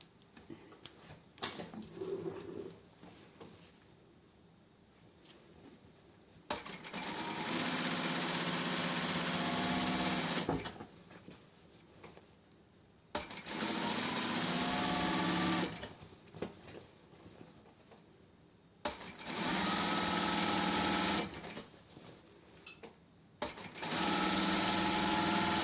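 A sewing machine stitches fabric close along piping for a fabric plant-pot cover, running in loud, steady whirring bursts of several seconds, separated by quieter pauses and small handling clicks.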